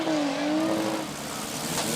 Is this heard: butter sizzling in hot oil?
no